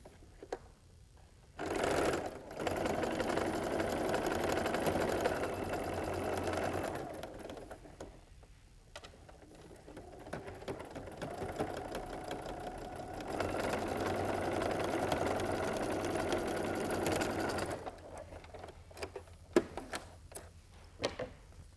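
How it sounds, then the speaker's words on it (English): A sewing machine stitches a quarter-inch quilt seam in steady, close-up runs of rapid mechanical whirring, pausing briefly twice between bursts. "Now I can just come right in here"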